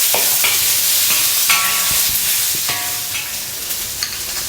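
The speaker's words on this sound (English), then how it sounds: "Stir frying the onion," Onion, cucumber and bell pepper stir-frying in a wok, a loud steady sizzle with repeated scraping strokes of the spatula at a brisk rhythm, close up and with no talking.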